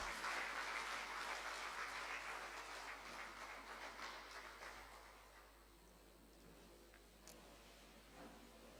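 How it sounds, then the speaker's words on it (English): Audience at a research and development conference applauding, dense sustained clapping that starts loud and gradually fades over several seconds, heard alone in a large room. "In fact, let's give him another round of applause."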